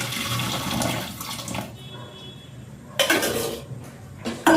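Water is poured into a cooking pot while making payasam with sago and lentils, giving a splashy gush that fades, followed by a few close clinks of utensils.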